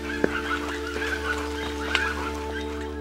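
Turkeys gobble and honk in the open at the Mayan ruins of Ek Balam, a few sharp calls standing out over a steady droning background.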